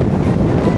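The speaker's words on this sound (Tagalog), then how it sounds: "Ang lakas ng hangin." Strong coastal wind at Yehliu Geopark in Keelung, Taiwan, buffets the microphone in a steady, loud low rumble that never lets up, with no voices.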